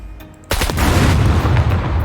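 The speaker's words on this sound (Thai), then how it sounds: "ตัวนี้ระเบิดเองครับเองนะ" C4 explosion in the video game SCUM, a sudden loud deep blast followed by a heavy rumbling tail, heard alone without talk.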